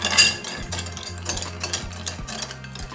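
A Campari and limoncello cocktail being stirred in a glass, with close, rhythmic clinks and scrapes of a spoon against the glass and ice over a few seconds.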